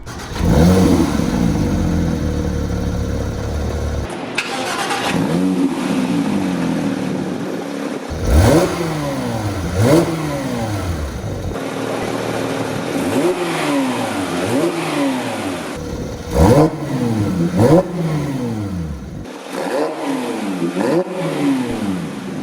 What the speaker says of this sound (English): it does come out of a 4-liter 6-cylinder engine, which sounds fantastic in my opinion